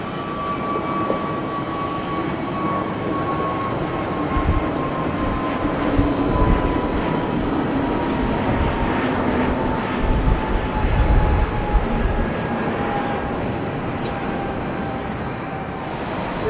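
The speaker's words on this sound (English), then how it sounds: "TAP's A321neo." A TAP Airbus A321neo jet at London Heathrow makes a continuous, fairly loud engine roar with a faint gliding whine, holding steady throughout with no voices.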